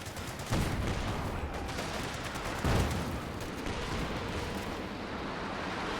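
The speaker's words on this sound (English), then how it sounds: "And we have double Werfers firing." Twin Nebelwerfer rocket launchers firing in Company of Heroes 2, two heavy booming launches a couple of seconds apart over a constant roar of battlefield noise and distant gunfire.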